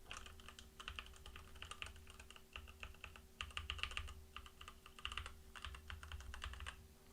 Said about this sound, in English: I'm currently trying to mimic a gaming streamer using my mechanical keyboard right now as I'm talking